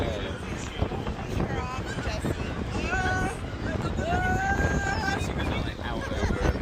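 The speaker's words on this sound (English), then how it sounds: "You really catch the wind up here as well." Wind gusting across the microphone high up on a ride at Disney California Adventure, a steady rumbling buffet under lively chatter and excited voices from nearby riders.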